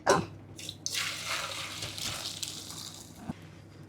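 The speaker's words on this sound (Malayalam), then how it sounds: "നമുക്ക് ഇതിനൊന്ന് അരിച്ചെടുക്കാം വെള്ളം പോക്കിയിട്ട്" Water from half-cooked broccoli being poured off and strained, a short gushing splash that settles into a steady trickle and drip, close by and alone.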